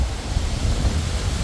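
Outdoor wind buffets the microphone during wood stove chimney cleaning, a continuous low rumbling roar with no speech.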